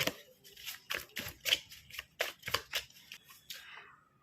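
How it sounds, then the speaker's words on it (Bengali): Tarot cards drawn out of a deck by hand: a rapid series of crisp papery flicks and slides, close and fairly quiet, a dozen or so in quick irregular succession. "আমি কার্ডগুলো বের করে নিই"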